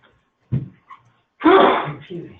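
A single sharp sneeze bursts out close by in an office setting, preceded by a faint short intake and followed by a brief voiced trailing sound.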